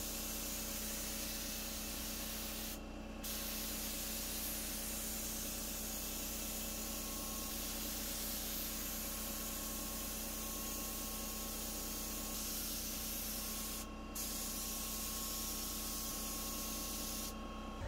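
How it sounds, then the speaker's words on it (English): A paint spray gun sprays paint onto a wooden buffet, a loud, steady hiss that runs almost the whole time and breaks off only for a few short pauses. "There were a few spots that the gun wasn't able to spray the paint very well"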